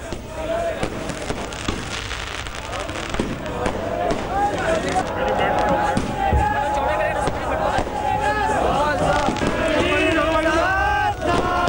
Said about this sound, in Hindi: भक्तों ने जमकर आतिशबाजी भी इस दौरान की।